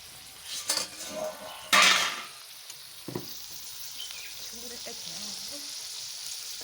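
Rupchanda fish patori wrapped in gourd leaves sizzles and fries on a clay stove, a steady close crackle with a few scrapes and utensil clinks near the start, no talking.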